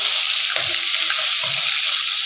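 Large freshwater prawns dropped one at a time into hot oil give a steady broadband sizzle, with two brief low thumps and bursts of crackle as each one goes in.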